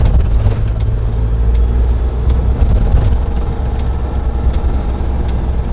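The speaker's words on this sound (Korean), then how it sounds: "엔진 소리 시끄러우면 뭘 해야 되죠?" A car engine drones steadily during a driving lesson on a road, a loud, continuous low rumble with faint road noise and no talking over it.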